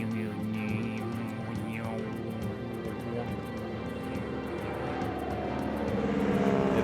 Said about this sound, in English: the drone of an approaching bush plane sounds like music.